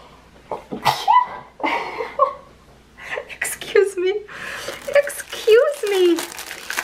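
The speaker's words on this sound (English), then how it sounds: "Oh my god, I'm gonna sneeze." A woman sneezes once while working on a diamond-art Christmas wreath, the sharp burst standing out between her own spoken remarks, with some soft crinkling nearby.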